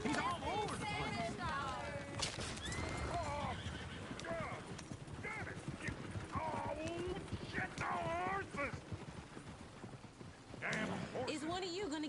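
Horse hooves clip-clop steadily in the video game Red Dead Redemption 2, mixed with whinnies and neighs from a nearby horse, as people talk over the busy scene throughout.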